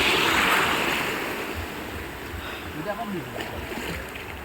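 Ocean waves at Murud beach, a broad hiss of surf that swells loudly at the start and then eases into a softer wash, with wind buffeting the microphone and faint voices in the background.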